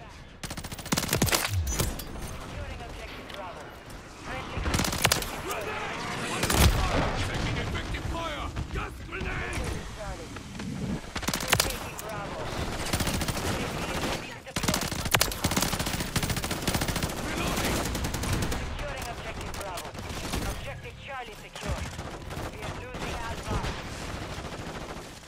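Automatic weapons fire in Modern Warfare 3 multiplayer on the Shipmas map, with repeated bursts of rapid gunshots, loud and close, mixed with game effects and announcer voice lines.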